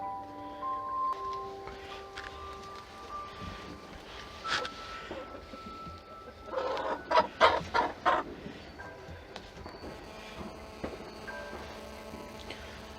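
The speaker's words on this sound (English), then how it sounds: "we've got a chicken on the floor." Chickens in a coop on bonfire night weekend, soft intermittent clucks over a low background hum, with a short cluster of louder calls midway.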